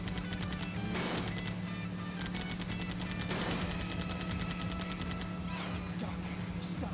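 Repeated gunshots from the video game Sonic the Hedgehog (2006) crack out in fast rattling bursts over a steady humming game soundtrack, loud and close.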